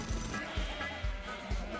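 Cartoon sheep bleats from Shaun the Sheep, four short, fairly loud calls repeating at an even pace over a busy background of music.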